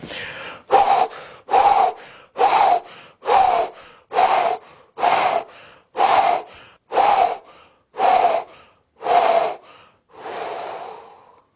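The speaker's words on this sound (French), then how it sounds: "un petit peu plus longtemps pour avoir vraiment la sensation de l'hyperventilation" Rapid hyperventilation breathing done as a relaxation exercise: about eleven loud, close, forceful breaths in a steady rhythm, each a sharp rushing in-and-out, the last one longer and softer.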